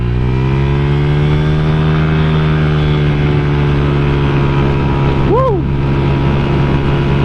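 A Honda Vario scooter engine drones loud and steady at speed with wind rush, and the pitch holds almost level throughout. A rider lets out a brief shout partway through.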